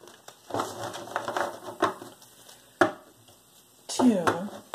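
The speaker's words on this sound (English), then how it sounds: "Let's get three shuffles in." Tarot cards being shuffled by hand in a few quick riffling bursts, each a soft papery flutter separated by sharp taps and brief quiet gaps, with a voice speaking between them.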